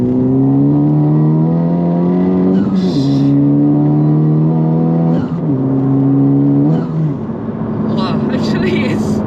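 Honda Civic Type R FK8R accelerating hard in R+ mode, a loud in-cabin engine drone rising in pitch, dropping at each of several quick gear shifts and climbing again, while an occupant talks over it.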